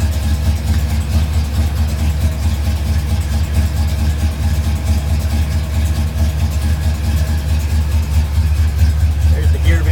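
A 1968 Ford Galaxie 500 convertible's V8 idles after a cold start, a steady, loud, deep rumble with a fast even pulse, close by and unchanging throughout.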